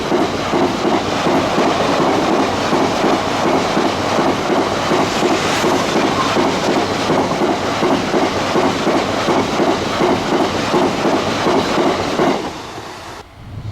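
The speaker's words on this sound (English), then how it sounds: "Instead of a Class 60 on this Liverpool to Drax biomass train, we had 66756 and then brand new addition to the GBRF fleet" Class 66 locomotives 66756 and 66797 hauling a Liverpool to Drax biomass train: loud, steady rumble and clickety-clack of wagons passing close by, continuous for about twelve seconds before fading slightly at the end.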